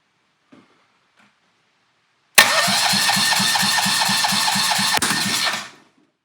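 A tiny seized engine, freshly rebuilt, catches after a carburetor cleaning: a brief rattle, then it fires and runs loud and close with a rapid, even pulsing beat for about three seconds before cutting out abruptly.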